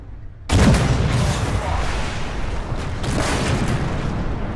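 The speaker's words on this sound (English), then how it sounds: "Backing up to shoot the XM1." Tank cannon firing at an XM1 in a video game: a heavy, booming blast breaks in after brief quiet, followed by a sustained loud rumble of engine and battle noise with further dull impacts.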